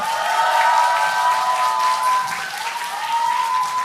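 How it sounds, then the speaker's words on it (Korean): Audience applause fills a book concert hall, a dense, steady wash of clapping that holds at an even level for the whole stretch, with a faint sustained tone running underneath. "큰 박수 부탁드리겠습니다."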